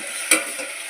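A utensil scrapes once around a pot of home-cooked food during stirring, a short close scuff over a steady low sizzle.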